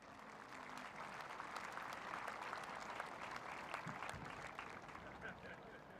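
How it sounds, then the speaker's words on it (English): Audience applause at an Anzac Day commemoration service, steady continuous clapping from a large crowd, distant and fairly faint, lasting several seconds. "please a round of applause"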